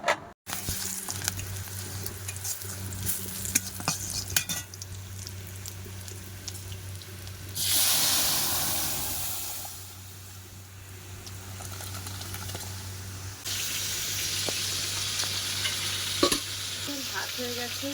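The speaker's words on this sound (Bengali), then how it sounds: "ভাত হয়ে গেছে, এখন মাছ ভাজা হচ্ছে।" Fish frying in a pan in a village kitchen, a steady sizzle with stirring and some water sounds, a low constant hum underneath, with no voices.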